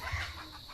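Hens clucking around a coop, a few soft low clucks close by against steady yard noise.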